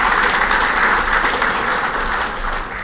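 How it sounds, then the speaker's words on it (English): A hall of fame dinner crowd gives a loud, dense round of applause in a hall, sustained and even for a few seconds before easing slightly. "a round of applause for all involved with the BFNL putting together tonight"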